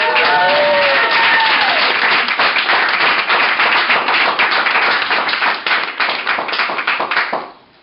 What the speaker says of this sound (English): So what I'd like to propose is a round of applause for those wearing the red